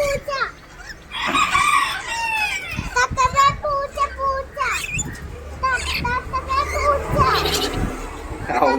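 Chickens and roosters at a pet park, with repeated loud crowing and clucking close by, and people and children talking over the birds.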